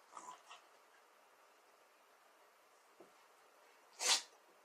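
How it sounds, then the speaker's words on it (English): A dog gives one sharp, loud sneeze near the end, after a few faint snuffles and small noises in an otherwise quiet room. "my dog barking. He just sneezed."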